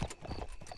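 A horse's hooves clip-clop in a video game, a few quick close steps in a brief burst.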